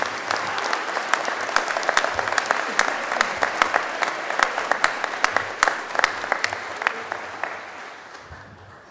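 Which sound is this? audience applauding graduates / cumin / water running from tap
audience applauding graduates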